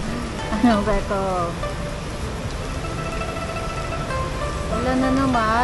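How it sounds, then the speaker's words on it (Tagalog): Heavy rain pours steadily during a motorbike ride, a dense broadband hiss that stays loud throughout while a person talks over it. "Lakas na naman ang ulan."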